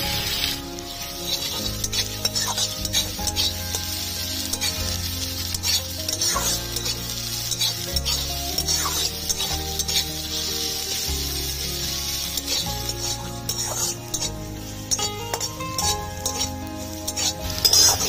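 Chopped onion and green chili fry in a pan for a tomato-garlic bharta. A steady close sizzle runs throughout, broken by frequent clinks and scrapes of a stirring utensil, and no one speaks.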